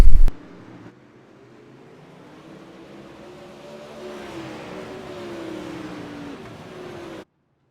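Super Late Model race cars roar around the Williams Grove dirt track during a heat race, engines droning steadily at a distance after a sharp opening bang, swelling slightly as the pack runs on.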